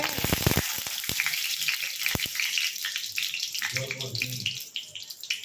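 Chopped ridge gourd hits a hot pan and fries with a loud, dense, crackling sizzle that continues steadily with sharp pops and spatters, while someone speaks briefly near the end.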